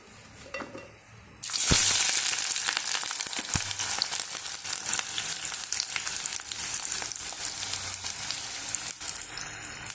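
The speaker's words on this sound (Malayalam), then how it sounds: "നമുക്ക് ചട്ടിയിൽ എണ്ണ ചൂടാവുമ്പോൾ ഇതെല്ലാം കൂടി വരട്ടിയെടുക്കാം" Loud, steady sizzling of a ground spice paste frying in hot oil in a pan for a vegetable and egg biryani curry, with occasional stirring clinks, close up and continuous after a brief quieter start.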